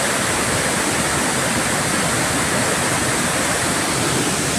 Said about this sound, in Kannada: ಈಗ ಬಂದಿದ್ದೀವಿ ಎಳ್ನೀರು ಫಾಲ್ಸ್ ಅಲ್ಲಿ